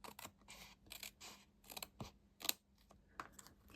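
Scissors trimming the glue-lined edge of stamped paper for card making, a few quick close snips and crisp paper crackles in a quiet room, no talking.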